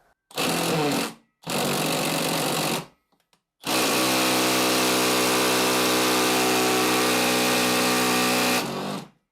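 A Felo impact driver drives a screw through a bit holder fitted with an ordinary bit until the bit snaps. Two short loud rattling bursts of hammering come first, then one long sustained hammering run, all close and with no talk.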